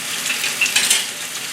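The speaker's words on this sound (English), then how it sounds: "Onion first. We're gonna slightly caramelize the onion." Sliced onion sizzles in hot oil as it begins to caramelize, a brief, bright, close hiss with small crackling pops and no voices.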